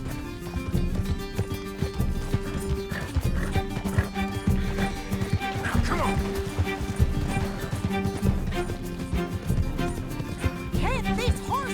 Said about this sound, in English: Can't this horse go any faster?